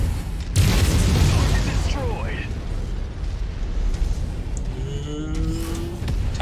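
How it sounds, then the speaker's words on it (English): A tank blows up in the Mechwarrior 5 video game with a heavy, booming blast that rumbles on, followed by mechanical whirs and clanks. "Tanky tank goes boom."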